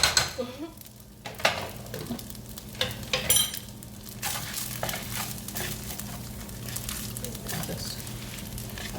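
Cooked rice sizzles and frys in a pan with salmon and shrimp, a steady crackle under scraping and clinking stirring strokes from a utensil, close and moderately loud.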